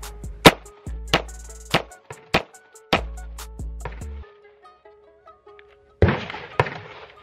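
Pistol shots fired at a target during a speed drill at a range: a series of sharp, close cracks with ringing tails, a few spaced then quicker, followed by a quieter gap and two more shots near the end.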